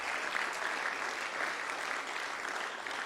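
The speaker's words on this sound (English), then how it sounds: "please give yourselves a round of applause for that" A crowd of brass band players at a Christmas festival and parade claps steadily for three seconds, a soft, even patter of hands heard from some distance.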